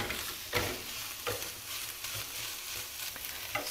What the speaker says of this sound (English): we're going to put some pine nuts in the meat, mix it all together